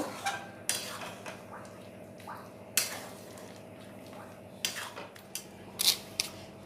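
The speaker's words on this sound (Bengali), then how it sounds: "এবার ওতে দিয়ে দেব, দিয়ে খুব ভালোভাবে নাড়াচাড়া করে মিশিয়ে নেব।" Spice paste for Gondhoraj chicken is stirred in a cooking pan. A metal spoon gives quiet, irregular clinks and scrapes against the pan, with soft gaps between strokes.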